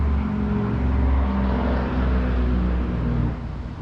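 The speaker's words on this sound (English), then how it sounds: "Jake brake." Heavy truck engine brake rumbling loud and close, a steady low growl of engine braking sustained for several seconds before dropping slightly in level near the end.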